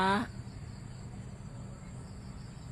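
Steady, high-pitched cricket chirring in a garden, continuous and fairly faint throughout, after a brief voice at the very start.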